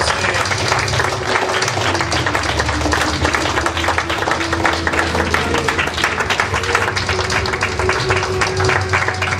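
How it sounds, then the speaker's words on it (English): Dense, sustained applause from a convention audience at CoreCon 2012, continuous and loud throughout, with a few voices mixed into the clapping. "Round of applause for coming to the stage."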